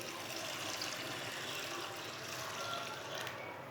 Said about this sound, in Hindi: पानी डाल के मैंने मिक्स कर लिया है।